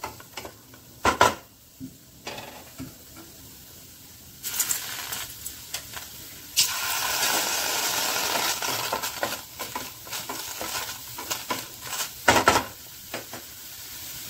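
Vegetables dry-roasting in a pan without oil over moderate heat for vendi masala, giving soft intermittent stirring scrapes and clatters with a light crackling hiss that swells in the middle, close and unaccompanied by talk.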